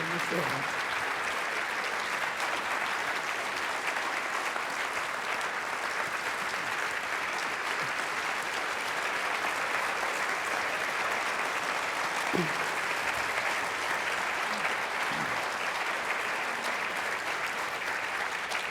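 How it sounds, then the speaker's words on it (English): A packed hall applauds at a referendum and Voice to Parliament information night. Dense, sustained clapping holds steady and loud throughout, with a few voices faintly breaking through. "I'll have to call a halt to that applause or we'll be here all night."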